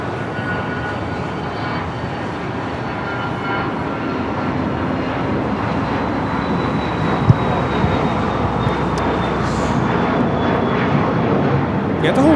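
Jet airliners, including an American 777, taxiing and landing on the south side of LAX, a continuous loud engine roar and whine filling the scene, with people talking over it.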